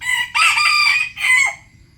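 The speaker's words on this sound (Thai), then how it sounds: "ไก่แจกตัวผู้ตัวนี้" A bantam rooster crows close and loud, one long strained call and then a shorter second phrase, with no talking over it.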